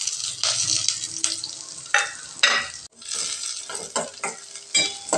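Chopped onions and slit green chillies sauté in a pan, a steady close sizzle with repeated scraping stirs of a spatula throughout, no talk.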